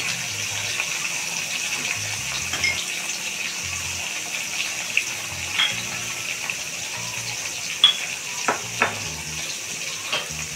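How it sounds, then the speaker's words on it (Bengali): Water poured into a pan of parshe fish curry with green chili paste and turmeric sets off a steady, hissing sizzle, with a few sharp pops and clicks breaking through near the end. "অল্প পরিমাণে একটু জল দিয়ে দিচ্ছি।"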